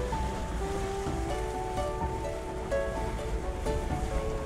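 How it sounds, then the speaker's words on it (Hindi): Water pours down from above across a mountain road crossing between Darcha and Gumbok in Zanskar, Ladakh, a steady broadband rush with a low engine-like hum beneath, continuous and fairly close. "ये देखिए वाटर क्रॉसिंग आ गई है, वो देखिए ऊपर से पानी आ रहा है।"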